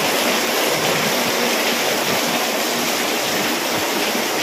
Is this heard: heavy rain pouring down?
yes